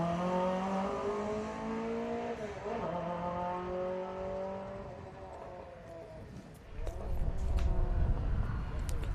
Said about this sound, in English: Iconic sound of twin Webbers on a 4-cylinder engine.